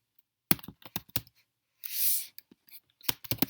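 Bursts of computer keyboard typing while coding in the NetBeans IDE, with irregular clusters of close, crisp key clicks, a brief breathy hiss midway, then more rapid keystrokes.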